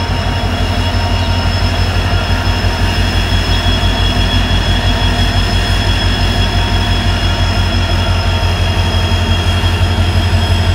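A diesel train rumbles steadily past near a railway station, giving a loud, continuous roar with a rhythmic wheel clatter and a faint high squeal throughout.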